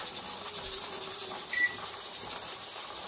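A pressure canner vents a steady, broad steam hiss while canning chicken legs, holding at a moderate level with a faint rubbing texture and no voices.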